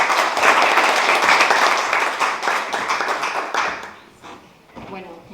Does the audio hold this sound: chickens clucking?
no